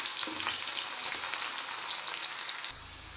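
Chopped onion frying in hot oil in a wok, a dense, steady crackling sizzle up close that drops away abruptly near the end, leaving a low hum.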